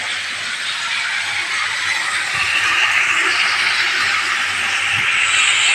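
Turmeric, chili powder, coriander powder and salt stirred in a hot pan, a steady broad hiss and sizzle running loud and continuous throughout, with faint scraping underneath.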